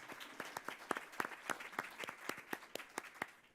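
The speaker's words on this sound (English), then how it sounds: "A big round of applause to them." Scattered audience applause for the speakers and moderator at a panel event on Columbus restaurants, a thin crowd giving distinct, unevenly spaced claps, fairly quiet and a little distant, with no talking over them.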